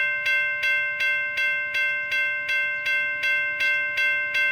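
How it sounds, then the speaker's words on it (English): Railroad crossing bells in the Minecraft video game ring in a steady, evenly spaced series of about a dozen bright metallic dings, loud and close, with no other sounds. "And you can hear the bells as well."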